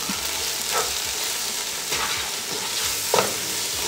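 Chili powder, garam masala, coriander and turmeric sautéing in a hot pan for Kerala-style Mughal chicken biryani, a steady close sizzle with a few spoon scrapes and stirs, no voices.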